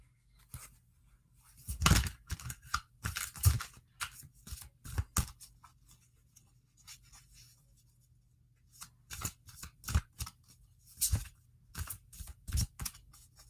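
A deck of playing cards being shuffled in repeated quick riffling bursts with pauses between them, close and fairly quiet.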